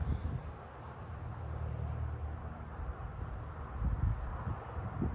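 Gusting outdoor wind buffets the microphone with a steady low rumble that swells and eases across the clip, heard alone without any speech.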